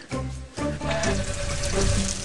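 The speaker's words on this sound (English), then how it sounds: "2-ring hob, running water, look." Tap water running into the sink of a camper van kitchen, a steady splashing stream after a brief opening burst, close and fairly loud with no talking.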